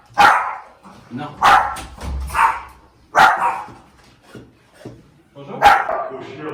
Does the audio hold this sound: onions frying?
no